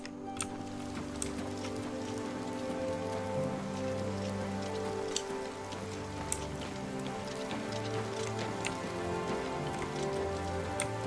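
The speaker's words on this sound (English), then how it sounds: "It's always raining here." Steady rain falls in the Oblivion video game, a constant dense patter across the whole span with scattered sharper drips, heard alone with no talk.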